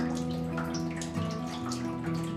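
Whey draining off fresh cheese in a cool cellar sounds as a steady, continuous trickle and splash of liquid running without a break. A faint mechanical hum sits underneath.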